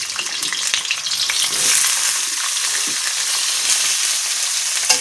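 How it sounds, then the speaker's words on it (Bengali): Potatoes frying in hot oil, a dense steady sizzle with crackling spits running throughout at close range, no voices. "এখন আলুটা ভাজা করে নেব লাল লাল করে সুন্দর করে"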